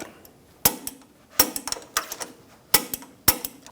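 A torque wrench tightens differential bracket bolts on a 2014-2018 Chevrolet Silverado 1500, giving several sharp metallic clicks in small clusters, spaced apart and close by, with no talking.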